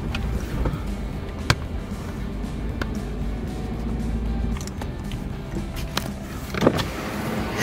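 Pickup truck hauling a heavy dump truck on a trailer along a highway, with a steady low vehicle rumble and road noise throughout and a few brief clunks and rattles.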